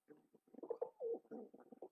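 A pet pigeon coos close by: soft, throaty pulses and longer rolling coos in a quick irregular series, fairly quiet and alone with no talking.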